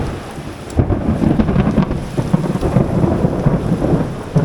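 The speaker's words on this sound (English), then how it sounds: "that's pretty good rain coming down now. You can hear it on the roof in here, thundering" Heavy rain drums steadily on a roof while low thunder rumbles and rolls beneath it, constant and loud.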